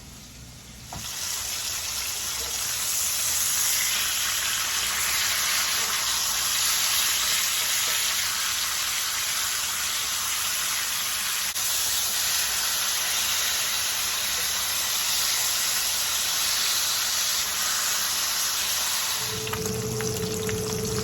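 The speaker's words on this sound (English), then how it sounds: "Let's go turn those pork chops over." Pork chops sizzle in a skillet just after being turned for garlic butter pork chops, a loud, continuous frying hiss that holds steady for about twenty seconds before the sound shifts near the end.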